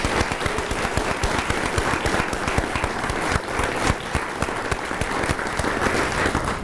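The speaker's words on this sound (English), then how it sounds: "Let's give one more round of applause to all of our honorees." An audience at an awards night for secondary school honorees gives a sustained round of dense, loud applause, many hands clapping steadily throughout with no break.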